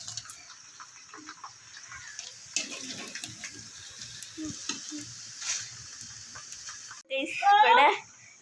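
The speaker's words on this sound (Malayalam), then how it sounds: "ചക്ക നല്ല പൊരിച്ചുണ്ട് കേട്ടാ" Jackfruit pieces frying in hot oil give a steady, close sizzling hiss that runs throughout, with a louder bubbling crackle surging near the end while someone talks over it.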